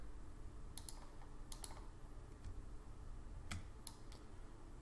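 Quiet, sparse computer keyboard presses and mouse clicks during Photoshop CC 2018 editing, heard as paired light taps scattered across the clip over a steady background hiss.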